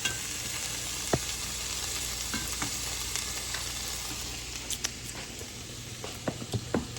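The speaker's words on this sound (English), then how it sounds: "We got the sausages and the onions cooking together." Sausages and onions sizzle together in a hot pan, a steady broadband frying hiss with scattered sharper pops and crackles throughout, fairly close and continuous with no talking.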